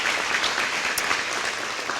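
Dense applause from a crowd at a community fair's opening program, a thick, even wash of many hands clapping at once, loud and unbroken for a couple of seconds.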